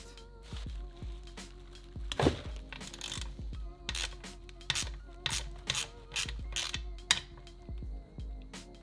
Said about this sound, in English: I need to pull this bracket off with these bolts